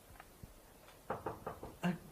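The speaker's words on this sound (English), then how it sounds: "heard a gentle tap at his door" Someone knocks gently on a door: several soft, muffled raps in an uneven cluster, fairly quiet, with a slightly louder final tap and no talk.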